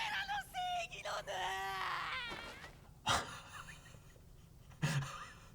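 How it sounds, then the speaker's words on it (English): An anime character from Jujutsu Kaisen screams and wails in rising, strained bursts, then breaks into ragged gasps and breathing, with a couple of sharp impacts near the end. "Just screaming at him."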